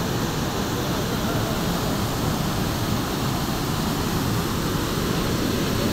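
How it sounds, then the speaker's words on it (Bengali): A deep waterfall pours down a gorge as a steady, dense, loud roar of rushing water, constant and unbroken throughout with no voices. "অনেক গভীরে ঝর্ণা নেমে বেয়ে যাচ্ছে।"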